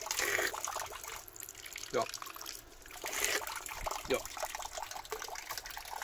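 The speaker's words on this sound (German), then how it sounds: "das ist keine Mineralquelle, das ist einfach nur eine richtige Wasserquelle" Water from a natural freshwater spring, not a mineral spring, runs and splashes continuously, with a steady trickle and gurgle that carries on beneath brief, quiet speech.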